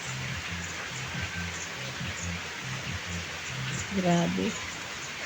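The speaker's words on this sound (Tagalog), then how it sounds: "Maulan na, maulan." Steady rain falls in the Bicol region as a constant hiss of drops on surfaces, with a low engine-like drone underneath and a person speaking briefly near the end.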